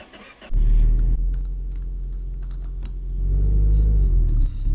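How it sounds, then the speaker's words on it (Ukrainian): A Lada Zhiguli on a garage slope cranks and catches, then settles into a steady, loud rumbling idle that swells as the revs rise near the end, with no voices over it. "Запускаємо даний швидкісний, найпотужніший двигун."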